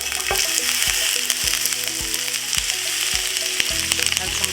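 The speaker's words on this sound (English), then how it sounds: "Next, I'll add the onion in." Onion sizzling in organic extra virgin olive oil with cumin seeds, a loud continuous crackling fry with bright popping across the whole stretch and a regular low thumping beneath.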